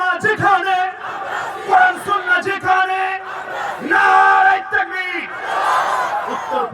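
A huge crowd of thousands at a Bangladeshi waz gathering roars Allahu Akbar in answer to a takbir call, with loud, massed voices swelling in repeated bursts and close, echoing shouts.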